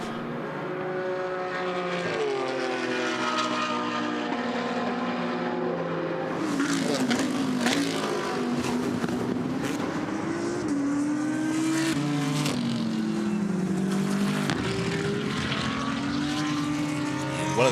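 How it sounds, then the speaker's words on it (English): GT race cars roaring around Indianapolis during an eight-hour endurance race, engines rising and falling in pitch as several pass and shift gears, a continuous loud drone. "we missed the sounds of racing"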